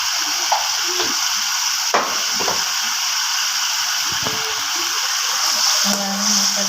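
Cumin and coriander powder sizzle in hot oil as shrimp kofta masala cooks, a steady broadband frying hiss with a few clinks of a spatula or spoon against the pan, no one speaking.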